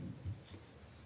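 Quiet scratching of a pen or marker writing on paper or a board during a Hindi-language stock valuation lecture, soft brief strokes with no talking over them.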